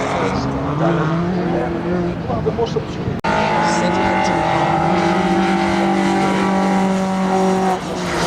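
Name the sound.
rally car accelerating on tarmac stage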